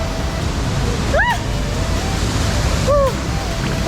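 Jacko Falls, a waterfall in Dominica, makes a steady rushing hiss of falling water. Two brief whistled bird calls rise above it.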